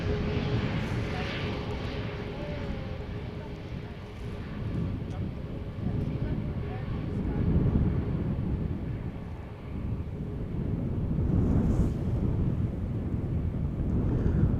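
A Transavia Airbus A321neo airliner rumbles at Schiphol Airport after landing, a steady, broad engine roar with wind buffeting the microphone, while a voice talks over it.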